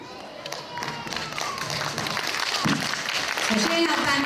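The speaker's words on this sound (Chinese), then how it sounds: "请家长给予获奖的宝贝最热烈的掌声" Parents clap for award-winning kindergarten children at a graduation ceremony, a dense crackle of hand claps that swells and grows louder, mixed with voices in the hall.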